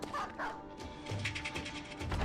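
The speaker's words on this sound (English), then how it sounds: "He doesn't hear the dog bark at him too much right before it." A dog barks and yips several times in the medieval mercenary video game Battle Brothers, short sharp calls in quick succession against a busy in-game background of clashing and movement.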